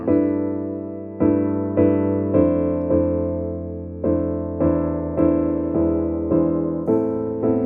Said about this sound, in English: So you just heard the low strings enter there.